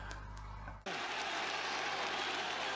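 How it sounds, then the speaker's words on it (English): A stadium crowd roars for a runner in a mile race in Koblenz in 1981. The sound starts as a lower hum and then jumps to loud, sustained cheering and applause with no break. "look at how they're cheering him on"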